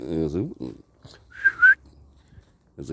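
A voice makes a short, high-pitched whistling squeak, two quick rising tones, imitating a nose whistle, with brief talking before and after.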